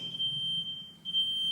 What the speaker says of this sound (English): Oh, that's just a smoke detector